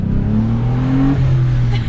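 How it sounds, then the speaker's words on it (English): A Hyundai Tiburon with exhaust clips revs up close and loud, with a rising engine note that climbs, drops briefly and holds again. "those exhaust clips that you just heard"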